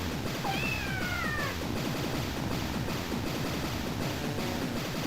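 A pet cat gives one brief, high meow early on, close but partly buried under a dense, steady wash of rhythmic background noise that continues throughout.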